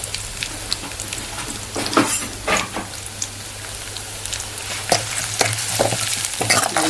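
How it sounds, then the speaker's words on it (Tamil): Onions and spices sauté quietly in a pan for tomato rasam, a soft steady sizzle broken by occasional scraping stir strokes and light clinks, close and without talk. "இதெல்லாம் நல்லா கொஞ்சம் வதங்கணும்."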